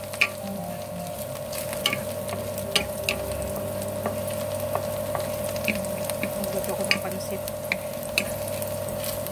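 Garlic frying in a pan for pancit, a steady close sizzle with periodic stirring clicks and scrapes, a low hum underneath and a voice speaking briefly.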